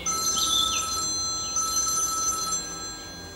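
An electronic telephone bell rings in two bursts with a short gap between them, clear and fairly close in an otherwise quiet indoor room.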